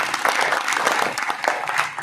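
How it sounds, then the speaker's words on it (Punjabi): Villagers at an anti-drug forum meeting in a Punjabi village break into applause, a lively, uneven burst of many hands clapping with small swells, fairly close and without talk over it. "ਇੱਕ ਵਾਰੀ ਆਪਣੇ ਨਾਂ ਤੇ ਸਾਰੇ ਤਾੜੀ ਮਾਰ ਦਿਓ ਸਾਰੇ"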